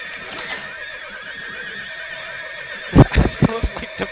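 A horse in the TERA Online video game gives a loud burst of neighing and snorting near the end, sounding close, after a stretch of low ambient game background.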